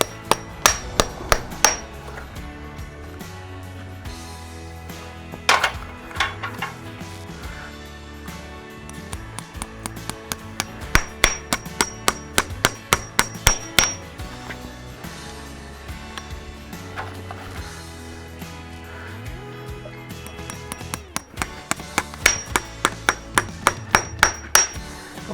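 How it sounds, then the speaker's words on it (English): Steady hammer blows drive horseshoe nails in a line into a hoof during shoeing, coming in quick bursts of sharp metallic taps with short pauses between runs, close and loud with no talk. "My nails all driven in a line, hopefully, yep."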